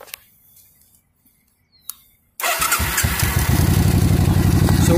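A motorcycle engine during a homemade carburetor sync sits quiet at first with a faint tick, then fires up and runs at a loud, steady idle with a rapid even pulse.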